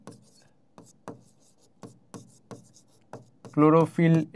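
Pen strokes from writing the names of pigments during a biology lesson: a series of short, scratchy strokes in a loose rhythm, followed at the end by a brief burst of a voice talking.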